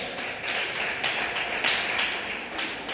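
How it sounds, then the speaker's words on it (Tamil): A church congregation claps hands together in a steady rhythmic pattern, a dense wash of many hands at even beats, moderately loud and continuous. "கையை தட்டு அல்லேலூயா."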